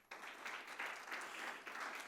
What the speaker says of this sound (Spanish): Le doy un aplauso a Dios por ese tema.